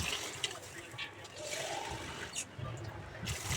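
Water poured from a vessel into a cooking pan for a rice dish, a steady, continuous splashing rush running the whole time at moderate loudness.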